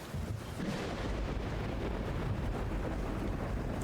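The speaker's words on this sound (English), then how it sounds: "the screen fades to white with an especially loud clap of thunder" Thunder in the video game Root Film, a loud clap that rolls on as a sustained, broad rumble, steady and fairly quiet overall with no voices.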